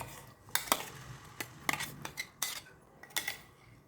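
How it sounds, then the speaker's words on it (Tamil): A spoon knocks and scrapes against a kadai as ground masala paste goes into hot oil for chana masala, a quiet run of sharp metallic taps and clinks over faint background, no speech. "இப்போ நம்ம அரைச்சி வச்சிருக்க விழுதை இதில் சேர்த்துப்போம்."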